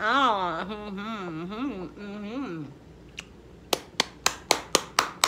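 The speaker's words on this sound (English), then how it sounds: "Let's clap." A single person claps about seven sharp, evenly spaced times, close and clear, right after a spell of animated, sing-song talking, in a home kitchen after tasting warm sesame bread with butter.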